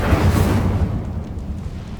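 A fire spell cast in Hogwarts Legacy: a loud, low rushing burst of flame right at the start, fading into a steady roar over a couple of seconds, with no talking.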